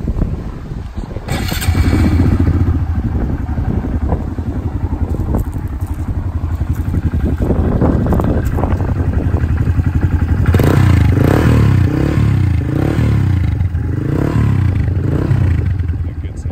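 A Honda MSX 125-F Grom motorcycle fires up after a brief pause and settles into a steady close idle. Its single engine later blips through a few quick revs.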